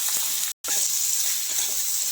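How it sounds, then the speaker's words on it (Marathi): Sponge gourd pieces fry in hot oil in a pan, giving a steady, close hiss with a brief dropout partway through and no talking. "तेल छान गरम झालं की या फोडी टाकायच्या आणि मस्त अशा परतून घ्यायच्या आहे तेलामध्ये."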